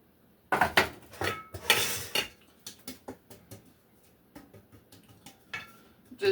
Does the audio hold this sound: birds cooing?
no